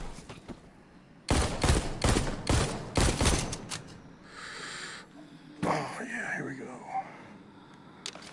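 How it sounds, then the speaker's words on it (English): Shooting at walkers on a tutorial range in The Walking Dead Onslaught, with a run of sharp, loud gunshots in quick succession early on, then quieter game sounds and a voice talking. "Keep shooting the walkers in the range."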